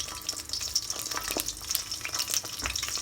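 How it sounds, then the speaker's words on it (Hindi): Eggplant pieces fry in hot oil for bagara baingan, a continuous crackling sizzle with scattered pops and spits, steady and close throughout. "तो अब हम इसको करेंगे फ्राई ऑयल में।"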